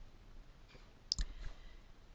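A couple of sharp, quiet computer mouse clicks in SPSS software, close and isolated against faint background hiss.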